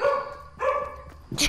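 A dog barks in the background, two or three short yapping barks at moderate distance, mixed with a brief noisy burst at the end.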